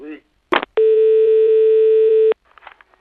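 A telephone line sounds a steady, loud single-pitch tone right after a call is hung up, holding for about a second and a half, with brief clicks before it and faint talk on either side.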